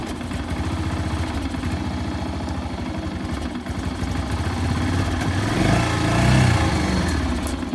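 A Yamaha SRX 400 single-cylinder motorcycle idles close by with a steady, rapid, slightly uneven thumping and mechanical clatter; the idle swells a little louder near the end.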